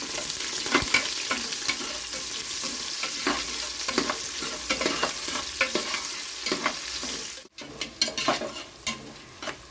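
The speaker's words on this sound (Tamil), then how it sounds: "நான் இப்போ வந்து வெங்காயம் சேர்த்துக்கிறேன்" Onions sizzle steadily in a pan for mint pulao while a spoon stirs them in repeated scraping strokes. A brief quiet break comes late, then the frying and stirring pick back up, with no talk.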